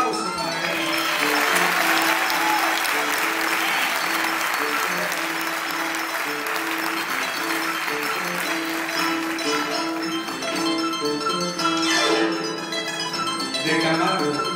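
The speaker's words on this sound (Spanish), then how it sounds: "El aplauso para él." Sustained audience applause for a harpist at a live performance, dense steady clapping lasting many seconds, with instruments playing faintly beneath.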